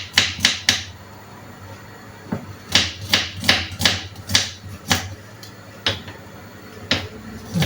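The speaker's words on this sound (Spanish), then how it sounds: "El ajo también lo cortamos en rodajitas." A knife slices garlic into thin rounds on a cutting board, giving crisp, separate taps that come in quick clusters with short pauses between them. The sound is close and clear, with no talking.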